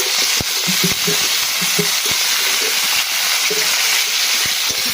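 Potatoes and broccoli fry in hot oil, a continuous bright sizzle with scattered crackles and soft clinks of stirring throughout.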